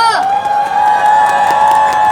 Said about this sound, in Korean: 뜨거운 박수 함성 부탁드립니다